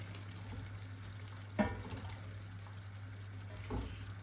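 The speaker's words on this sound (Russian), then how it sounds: "Все тщательно перемешаем." Chicken and eggplant being stirred in a frying pan, a low steady sizzle with two soft scraping knocks from the utensil, quiet and close.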